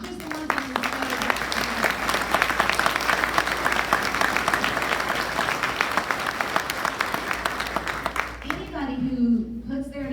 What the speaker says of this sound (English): I want to give a round of applause for all of the candidates who showed up